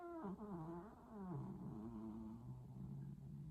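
A cat nearby gives a drawn-out, wavering vocal cry that holds steady and sinks lower over several seconds, close and fairly loud against a quiet room.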